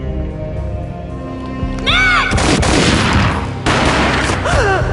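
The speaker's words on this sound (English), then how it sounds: "A gunshot boomed and she fell down in slow motion" Gunfire in the PC shooter Max Payne: a sudden loud boom and a burst of heavy shots crash in after a quieter musical passage, close and dense, with a second blast near the end and whooshing effects around them.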